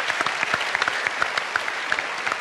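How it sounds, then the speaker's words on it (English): A lively arts festival crowd in Adelaide claps in dense, steady applause throughout, loud and close, with no voices over it. "Give yourselves a round of applause, please."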